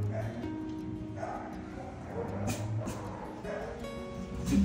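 A rescue dog lets out soft whimpers and short yips in scattered bursts, close by, mixed with some background voices.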